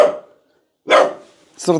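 A dog barks sharply twice at close range, with short gaps between the loud yelps.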